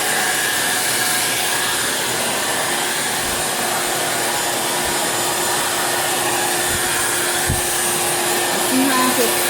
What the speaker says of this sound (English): the blow dry take off the wrinkles of the bag as well.